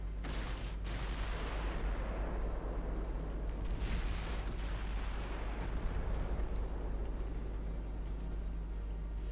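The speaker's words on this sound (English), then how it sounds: "those Mark IV 7-inch guns are starting to tear holes into the Japanese light cruisers" Continuous heavy naval gunfire from Mark IV 7-inch guns engaging Japanese light cruisers in the Ultimate Admiral Dreadnoughts game, a dense rumbling barrage with low booming blasts rolling over each other throughout.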